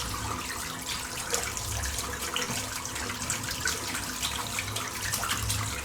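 Water runs steadily from a tap while a shaving brush is rinsed during a head shave, a continuous hissing splash at close range with no speech.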